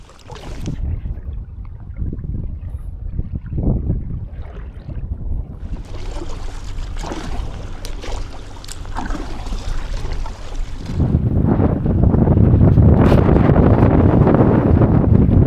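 Wind buffets the microphone in a boat crossing an open stretch of sea in a summer archipelago, a steady rushing roar with water noise that grows louder and rougher near the end.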